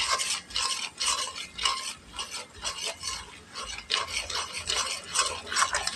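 A spoon stirring and frying masala spice paste in a pan while cooking a koi fish curry, a close, rhythmic series of scraping, sizzling strokes repeating roughly twice a second with no voices.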